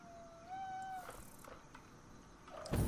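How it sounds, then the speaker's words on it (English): A house cat meows several times in a plaintive, rising and falling cry over a quiet background, followed by a louder rustling thump at the end. "kitty, why are you so noisy?"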